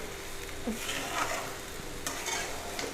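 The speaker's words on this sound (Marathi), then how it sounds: "इकडं माझं इकडं कांदा पण हलवायचं चाललं आहे" Onion frying in ghee in a pan at a village home kitchen, a faint soft sizzle with a few quiet scraping stirs of a spoon across the pan.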